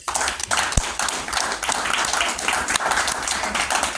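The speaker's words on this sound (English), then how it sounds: "Let's give him a hand." An audience at an Oklahoma Second Amendment Association county meeting breaks into dense, continuous applause to welcome a guest speaker, with many hands clapping together at steady volume throughout.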